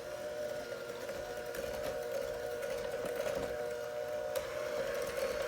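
A hand mixer beating red velvet chocolate chip cookie dough, giving a steady mid-pitched electric whine that runs continuously and fairly quietly with no talk.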